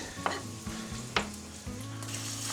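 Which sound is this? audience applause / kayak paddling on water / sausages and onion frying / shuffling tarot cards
sausages and onion frying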